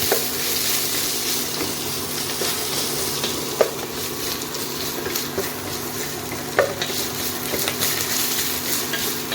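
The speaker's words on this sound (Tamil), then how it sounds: "இஞ்சி வெளுத்துள்ளியும் அடி பிடிக்காத அளவுக்கு வசங்கிக்கிட்டே இருக்கணும்" Ginger garlic paste fries in a pan while it is stirred continuously, giving a steady sizzle with a few sharp scrape clicks from the spoon against the pan, close and alone without voices.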